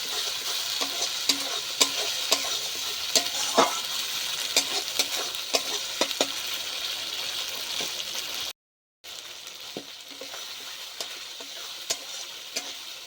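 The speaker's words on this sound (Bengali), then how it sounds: "টমেটো বাটাটা ভালো মতন কষিয়ে নেব" Tomato paste is stir-fried for a rohu fish curry, giving a steady, close sizzle with frequent sharp scraping ticks from stirring. A brief dropout of silence falls partway through, then the sizzling resumes.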